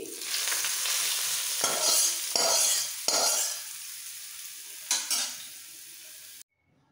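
Hot fried spice tempering hits a yogurt mixture for Odisha-style dahibada, giving a loud steady sizzle with several bursts as it is stirred and poured, then abruptly cutting to silence.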